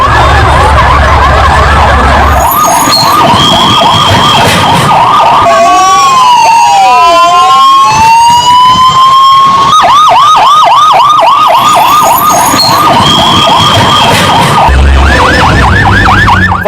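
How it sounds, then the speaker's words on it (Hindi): Loud, close wailing sirens of fire brigade trucks arriving at an aircraft fire that spread to a hostel building, cycling up and down continuously with a long slow sweep in the middle and engine rumble underneath. "देखिए फायर ब्रिगेड की गाड़ियां मौके पर पहुंचने लगी"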